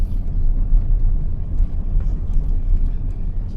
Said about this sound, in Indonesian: Ini bus ini dia belok kiri nih